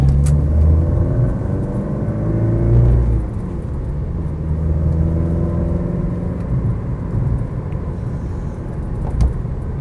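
A Porsche 944, late flat-dash car with power steering and aging engine mounts, idles with a steady low rumble and slight harsh vibration, close and continuous with no talk.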